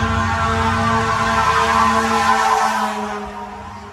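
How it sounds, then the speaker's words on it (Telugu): An ambulance siren wails steadily in Manhattan traffic, its sustained tone shifting pitch and fading slightly toward the end under the rumble of the street. "అంబులెన్స్ అది. సో అంబులెన్స్ వచ్చిందంటే అందరు దారిస్తారు ఇక్కడ."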